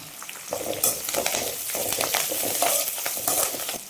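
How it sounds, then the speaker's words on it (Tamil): Curry leaves dropped into hot oil and stirred while making a fish curry, a loud, close, steady crackling sizzle with a utensil scraping the pan, and no voices. "இப்போ இது எல்லாத்தையும் நல்லா கலந்து விடுங்க இப்போ கொஞ்சமாக கருவேப்பில் ஆட் பண்ணிக்கலாம்"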